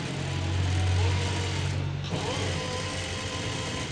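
A sewing machine hums and rattles as it stitches fabric, a close motor whir that dips briefly midway and then keeps running steadily.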